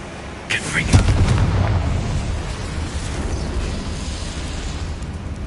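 A Confringo fire spell erupts in Hogwarts Legacy with a sudden loud boom, followed by a long rumbling roar that slowly fades under the game's ambience.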